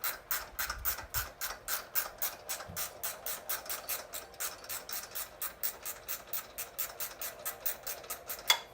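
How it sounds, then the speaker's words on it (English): On a 2007-2013 Silverado 1500 with the 5.3L engine, a ratchet wrench turns the tensioner pulley bolt, clicking in a fast, even, continuous run up close. "I'm going to switch to a ratchety wrench here just to make it go a little faster"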